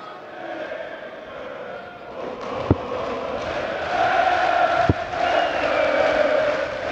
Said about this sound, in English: the crowd here in Hamburg have launched into a new rendition of something